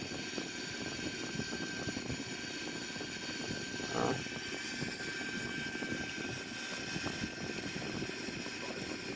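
Simulated Airbus A340 engines drone steadily through a landing approach in a flight simulator game, a constant, even roar with a faint brief thump midway and no voices.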